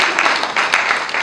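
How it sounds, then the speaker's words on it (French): Audience applause at a book launch and vernissage, steady dense clapping from a room of people, fairly loud and continuous without pause. "Et sous vos applaudissements"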